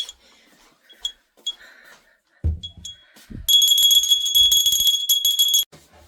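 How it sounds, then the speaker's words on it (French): A small souvenir bell from Savoie gives a few faint early tinkles, then rings loudly and continuously for about two seconds before stopping abruptly, with scattered handling noises around it. "on va prendre la petite cloche. La petite cloche que mon fils m'a ramenée de Savoie."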